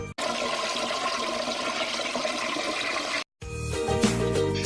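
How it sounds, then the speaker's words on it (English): An automatic urinal flush runs as a steady loud rush of water for about three seconds, cuts off briefly, then a second gush of flowing, gurgling water starts. "the flushing control device will flush the urinal for 3 seconds"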